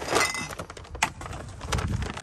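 Glass breaks and clinks while recycling is being sorted, giving several sharp cracking and tinkling bursts in an irregular sequence over a quiet background, close and moderately loud.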